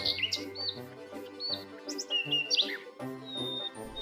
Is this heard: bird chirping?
yes